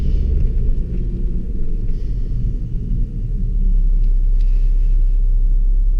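A tuned 2005 BMW 535d diesel with 370 horsepower, a Wagner intercooler, the DPF removed and a remap drives slowly through city streets, giving a steady, close, loud low engine rumble.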